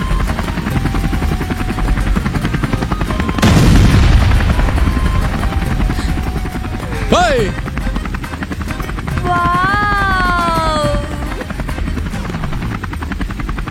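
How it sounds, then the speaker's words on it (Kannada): Bombs exploding as a sound effect in a comedy film scene: one heavy, loud blast early on, followed by a steady mechanical drone and several whistling, wavering tones. "ಅಲ್ಲೇ ಹೋಗ್ಬಿಟ್ಟು 3 ಬಾಂಬ್ ಹಾಕ್ಬಿಡು"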